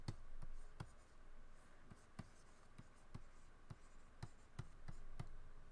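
A pen writes the word stretch in quick, sharp strokes, a dozen crisp scratches and taps in an uneven rhythm, close and fairly quiet over a light background hiss, with no talking.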